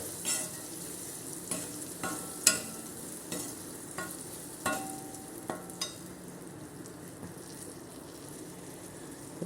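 Sweet mango pieces sizzle in hot oil for a pickle, a steady low fry broken by sharp clicks and scrapes as a spoon stirs them against the pan.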